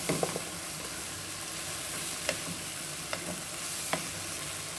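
Semiya pulao ingredients being sautéed in a pan give a continuous soft sizzle, broken by a few sharp scrapes and clicks of a spoon stirring against the metal.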